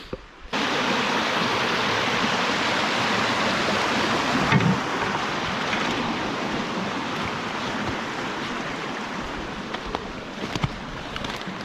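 Creek water flowing through the woods in Central Canada, a dense steady rushing wash that starts suddenly after a quiet moment and stays loud and close throughout, with no talking.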